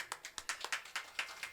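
An audience claps for a stage drama performer at a village Valli Thirumanam play. The applause is faint and distant, a steady patter of overlapping claps.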